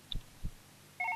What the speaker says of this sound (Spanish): ese es tu teléfono